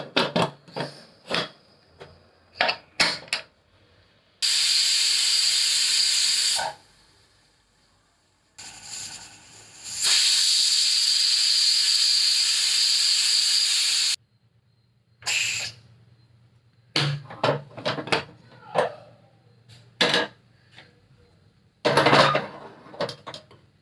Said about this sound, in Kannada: ಕುಕ್ಕರ್ ಮುಚ್ಚಳ ಮುಚ್ಚಿಬಿಟ್ಟು 2 ವಿಷಲ್ ಬರ್ಸ್ಬಿಡೋಣ.